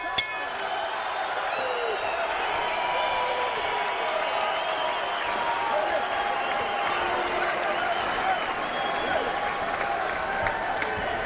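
Boxing arena crowd on its feet for Vic Darchinyan versus Anselmo Moreno at the final bell, a continuous loud roar of applause and cheering with whistles and shouts layered throughout.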